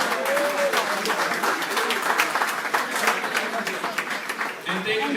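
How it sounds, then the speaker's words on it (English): At a parade breakfast ceremony a crowd gives sustained, dense applause filling the room, with some cheering and voices mixed in throughout. "Big round of applause to our kings and queen in the house."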